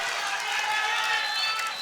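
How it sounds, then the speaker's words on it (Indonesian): Brief applause from the audience at a HIPMI chairmanship candidate debate, a soft, continuous wash of clapping at moderate distance with no clear individual claps. "Kita berikan tepuk tangan untuk Caketum nomor urut"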